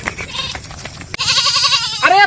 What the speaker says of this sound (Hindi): ये तो बकरी है।